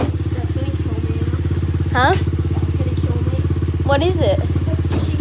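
A 50cc motorbike engine runs close by with a steady, throbbing drone, while voices talk and call out over it.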